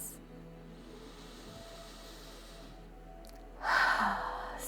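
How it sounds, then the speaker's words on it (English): A single deep breath, a soft steady airy inhale followed by a louder, breathy exhale near the end, close and quiet with no talking. "Big deep breaths."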